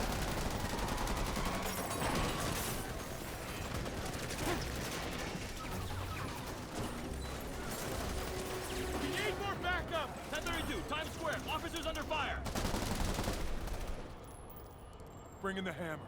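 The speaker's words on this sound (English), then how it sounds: "Oh my God, there's gunfire." Dense bursts of rapid gunfire and explosions from the video game Marvel's Spider-Man rattle continuously, loud and close, with a voice talking over the shooting at times.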